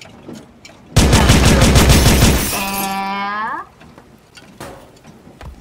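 A shotgun fires in a video game as one loud, dense burst of rapid blasts lasting over a second. A ringing, falling electronic tone follows before the sound cuts back to quiet background.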